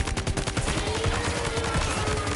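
A weapon firing in the game Death Stranding 2 makes a loud, dense stream of rapid shots and blasts that fills the whole moment without pause.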